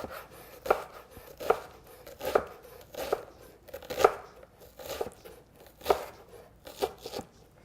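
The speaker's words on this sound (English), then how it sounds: "Turn the onion around, go in like that, and then cut the onion." A knife dicing an onion on a cutting board, with evenly spaced sharp chops, roughly one each second, close and clear over faint room noise.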